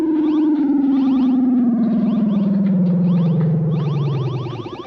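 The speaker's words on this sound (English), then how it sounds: "the Zarbi are just running around making strange noises" Zarbi, the insect creatures of 1960s Doctor Who's The Web Planet, make a loud warbling electronic drone with distorted, echoing chirps that slides slowly downward in pitch and fades at the end.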